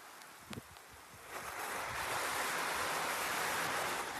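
Heavy rain falling in a village, a steady broad hiss that swells after a few faint knocks at the start and then holds loud and even to the end, with no voices.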